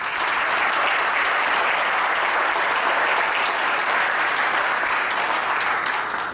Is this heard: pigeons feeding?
no